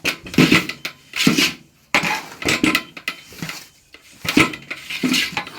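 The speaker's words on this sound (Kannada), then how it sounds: "ನಿಮ್ಮ ಪಾತ್ರೆ ಸೌಂಡ್ ಜೋರು ಕೇಳ್ತಾ ಉಂಟು" Cooking pots and metal utensils clang in a home kitchen while grated coconut is fried, giving loud, repeated bursts of clatter and knocks in uneven groups with short pauses between them.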